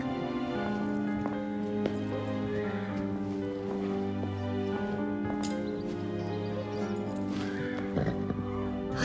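In the animated series Grand Galop, a horse gives a clear whinny over a steady bed of background music, with hooves clip-clopping intermittently and a light patter like rain underneath.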